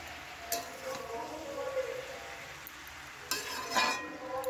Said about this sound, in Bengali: এরপরে আস্তে আস্তে খুন্তি দিয়ে নেড়ে নিতে হবে।